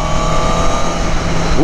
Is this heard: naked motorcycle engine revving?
yes